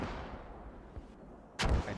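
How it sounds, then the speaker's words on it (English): Distant mortar rounds landing in a tactical shooter video game on open terrain: a faint thud in a quiet field, then a louder muffled impact boom near the end, far off rather than close. "There are mortars coming in, but they are too far north, it looks like"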